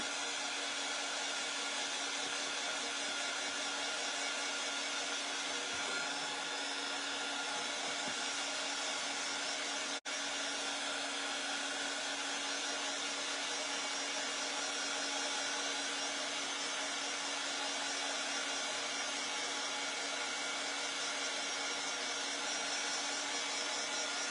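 A hair dryer runs continuously at close range, drying chalk paste on a house cutout with a steady, loud whooshing hum and no talking.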